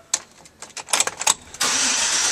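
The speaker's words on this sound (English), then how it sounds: "Now we'll start up this truck." A 2004 Chevrolet Silverado 1500 crew cab 4WD lifted pickup cranks with several quick starter bursts, then the engine catches and settles into a steady, close-up idle.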